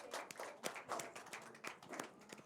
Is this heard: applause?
yes